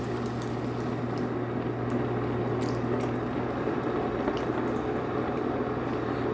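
Water splashing on a large lump of clay on a spinning pottery wheel, a steady wet churning and squishing under the hum of the wheel motor, close and continuous.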